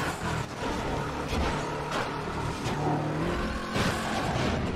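A racing car in Midnight Club 3 drives at speed, engine droning continuously with rising and falling revs and passing bursts, loud and steady with no talk.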